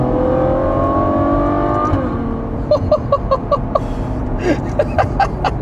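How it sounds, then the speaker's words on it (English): Ferrari GTC4Lusso V12 heard from inside the cabin: a loud sustained engine drone that rises, then drops into a series of short, rhythmic bursts and pops. "with the seats down in the back like that, this thing sounds epic"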